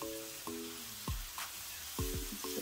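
Beef pieces fry in medium hot oil, a soft, fairly quiet sizzle with a few sharp taps and clinks scattered through, no voices.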